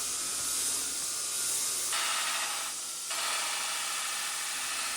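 A surface grinder grinds scale off a Damascus steel billet, giving a continuous broadband hiss that swells and shifts in intensity as passes are made, close and loud with no talking.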